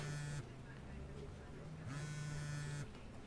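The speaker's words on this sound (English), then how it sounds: "Your phone's ringing." A mobile phone vibrating indoors, two buzzing bursts with a pause between them, moderately close over a low room hum.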